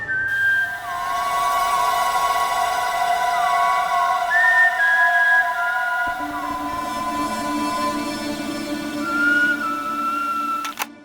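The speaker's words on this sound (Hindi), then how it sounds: "ये ट्यून खूनी बजा रहा था" A man whistles a melodic tune alone, clear and close, with sliding notes and a steady flow of phrases over a faint background hum that shifts partway through, in a crime drama scene.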